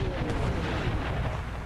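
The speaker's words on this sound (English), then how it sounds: "Must have been an ally shooting a cannon" Booming cannon fire on an American Civil War battlefield at Wilson's Creek in a video game, a dense, rumbling roll of artillery with a voice talking faintly underneath.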